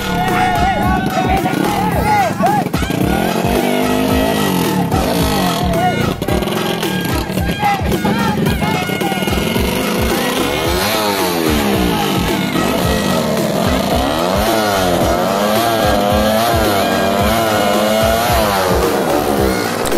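Trail bikes rev loudly at the start of a money-game race, engines rising and wavering in pitch over an excited crowd and commentary.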